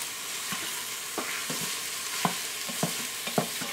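Sausage, onions and garlic fry in an Instant Pot with a soft continuous sizzle, while a spoon stirs through them in a handful of sharp scrapes and knocks, close but fairly quiet.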